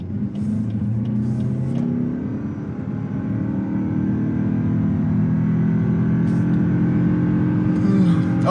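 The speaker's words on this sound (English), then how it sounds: "I'm throwing it into sport mode and I'm taking my usual corner." A 2022 Lexus UX 250h hybrid SUV accelerates in sport mode, its engine drone rising steadily and growing louder throughout, heard from inside the cabin.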